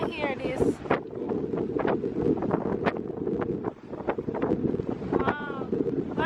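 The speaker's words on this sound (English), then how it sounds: "It's so windy, I don't even know if I can hear this." Strong seaside wind buffets the microphone outdoors at a Jamaican seafood spot, a steady low roar with gusts throughout, while people talk over it.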